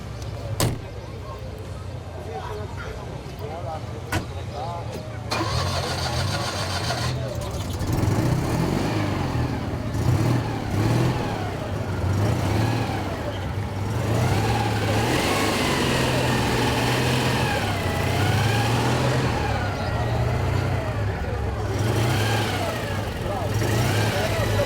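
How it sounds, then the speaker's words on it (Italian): After a few clicks and a door thud, a vintage Citroën 2CV engine turns over and settles into a steady running chug while people talk nearby. "Ci fai sentire il suono della 2 cavalli?"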